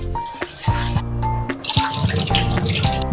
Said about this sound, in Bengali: এই চালটা প্রথমে একবার ধুয়ে নেবো, বেশি ধোবো না।